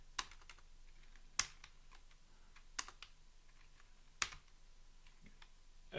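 Typing on a computer keyboard, a steady stream of soft, close key taps broken by a few sharper, louder clacks, with no talking.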